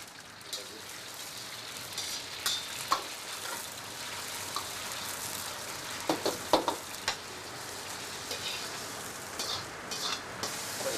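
Vegetables stir-frying in a hot wok in a Chinese restaurant kitchen, a steady broadband sizzle with scattered crackles and light scraping, continuous and fairly close throughout.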